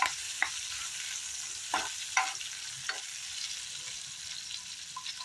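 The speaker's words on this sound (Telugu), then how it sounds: "ఉల్లిపాయ ముక్కలు, బాగా వేగనివ్వాలి." Chopped onion pieces and green chillies frying in a pan, a steady soft sizzle with a few brief stirring scrapes, close and alone without talk.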